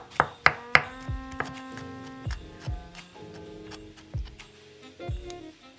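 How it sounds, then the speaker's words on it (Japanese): Onion, mushrooms and garlic are finely chopped with a knife on a board, a burst of three quick sharp chops followed by scattered slower knocks and taps, close and alone with no talking. "玉ねぎ約1/4個分、マッシュルーム3個、ニンニク1かけをそれぞれみじん切りにします。"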